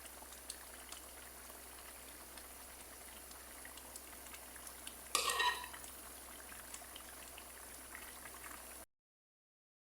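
Falsa syrup simmers in a cooking pot with a soft, steady bubbling hiss, and a brief louder stirring scrape about midway, before the sound cuts to silence.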